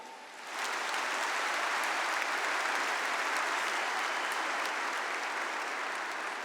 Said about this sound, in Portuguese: Aplauda essas mulheres.